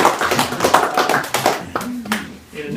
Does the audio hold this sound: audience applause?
yes